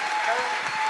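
A brief burst of audience applause at a book event, a dense wash of clapping from the crowd with no clear gaps.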